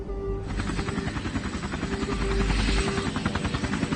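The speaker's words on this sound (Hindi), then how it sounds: "डॉक्टर आपके लिए हेलीकॉप्टर मंगाया है।" A helicopter rotor chops steadily and rapidly over a constant engine drone, close and fairly loud, with no voices.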